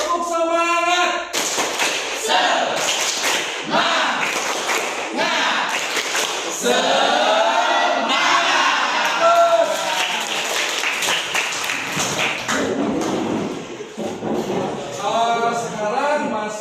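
A room of people at a school session performing a rhythmic motivational clap together, dense repeated clapping in steady patterns mixed with group chanting and voices, loud and close throughout.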